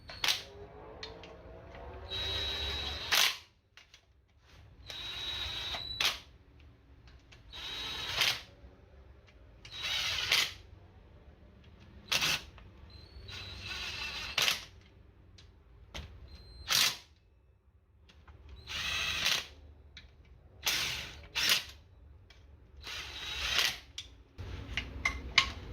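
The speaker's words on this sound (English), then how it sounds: "go ahead and put the little impact on there and just drive them down to the case" A small impact driver runs down bolts into a Briggs & Stratton 18–27 hp engine case during governor gear replacement, in repeated short loud bursts separated by quiet pauses.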